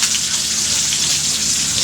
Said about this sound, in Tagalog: matalsik po yung mantika